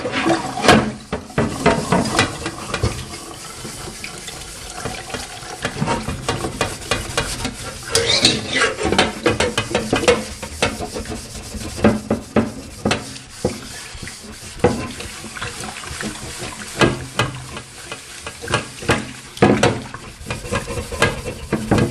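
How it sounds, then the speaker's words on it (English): A carbon steel wok being scrubbed hard with soap-loaded steel wool and dish soap, giving a continuous wet, gritty rasping with irregular strokes and bursts, close and fairly loud with no talking. "use steel wool on here, and this steel wool has soap in it"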